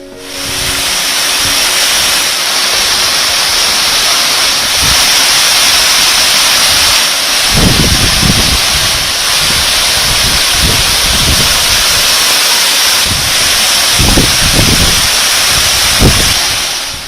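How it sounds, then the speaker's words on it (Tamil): Kutladampatti waterfall pouring down hard, a steady roaring wash of water, loud and unbroken throughout, with a few low thumps beneath. "ஆர்ப்பரித்து கொட்டும் அருவி நீர் காண்போர் மனதை கொள்ளை கொள்கிறது."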